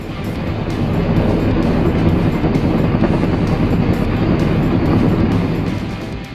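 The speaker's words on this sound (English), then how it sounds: "helicopters have become an important means of transporting sick or injured livestock to veterinary clinics" Helicopter carrying livestock over high mountain pastures, its steady rotor and engine roar filling the scene as a loud, continuous wash that swells in and fades slightly at the end.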